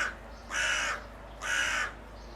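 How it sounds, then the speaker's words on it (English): Two harsh crow caws, evenly spaced about a second apart, sounding moderately distant against a quiet outdoor background. "That's your crow reply all right there."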